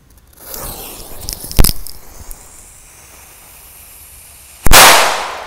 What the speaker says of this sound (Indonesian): di sini sudah ada mercon kera raja. Seperti apa suaranya langsung aja kita sumet